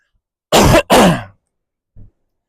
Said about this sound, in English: let me just cough to clear something